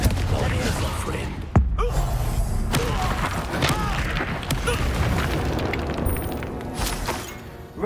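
A Bombarda explosion spell bursts in Hogwarts Legacy with a sharp, loud boom early on, followed by softer thuds and magical effects amid a busy, continuous battle soundscape.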